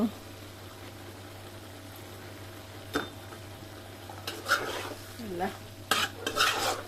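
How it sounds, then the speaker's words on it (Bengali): Malabar spinach seeds and rohu fish braising in a pan make a soft low sizzle. Scattered scrapes and clinks of a stirring spoon grow busier toward the end, with a faint hum underneath. "এখন দেখি কি অবস্থা, কষানো হইতেছে তো।"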